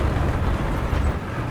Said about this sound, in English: I can hear something with a British engine.